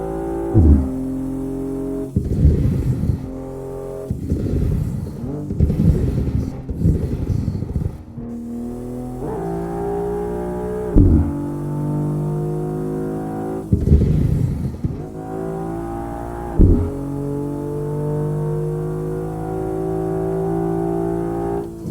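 Dense motorway traffic in the Assetto Corsa racing game with its traffic mod, engines droning steadily with repeated loud revving, gear-shift surges and passing cars, continuous and close, with no talking.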